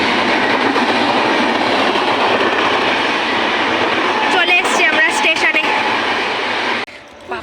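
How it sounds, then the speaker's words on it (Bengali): A train pulling into a station rumbles loudly and steadily with rail clatter and brief squeals near the end, with a voice speaking briefly over it before it drops off sharply. "হ্যাঁ ট্রেন ঢুকেই গেছে"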